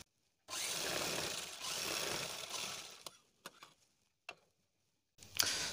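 Sewing machine stitching a fabric bra cup, running in steady mechanical bursts of about two seconds, then short clicks and separate brief runs as the stitching stops and starts.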